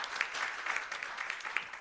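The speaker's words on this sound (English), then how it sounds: "You can give her an applause if you want." An audience applauds a conference moderator at a South African media event, a steady wash of clapping lasting the whole moment with a few brighter individual claps standing out.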